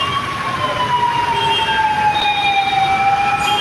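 A continuous wailing ambulance siren stuck in dense Thane city traffic, loud and near, its pitch drifting slowly while engine noise rumbles underneath.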